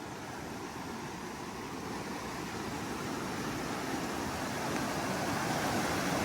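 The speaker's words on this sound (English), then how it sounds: "Look at that water a-flowing." Creek water rushes past at an Ozark creek crossing in a steady, dense wash of noise that swells slightly toward the end, with no voices.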